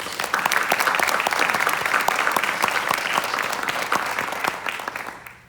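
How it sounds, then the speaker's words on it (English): Audience applause at a military retirement ceremony after a call to honor the color guard: a dense, steady wash of many hands clapping, sustained for several seconds before tapering off at the end. "So a round of applause for them, too, please."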